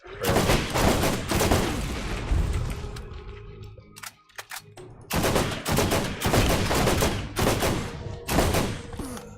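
Sustained automatic gunfire rattles in Borderlands, dense bursts filling several seconds, breaking off briefly with a few scattered shots, then resuming loud and close.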